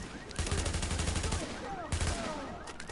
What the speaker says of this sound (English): There's a sniper back there.